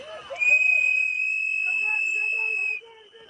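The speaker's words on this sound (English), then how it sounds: "The whistles and yelling." A shrill whistle blast holds for about two seconds amid shouting and yelling voices during street chaos in Minnesota, loud and close, with more voices after it stops.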